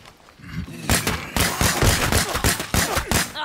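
Rapid gunshots ring out in the game State of Decay 2, a loud burst of closely spaced bangs that runs over several seconds after a quieter lead-in, with no talking.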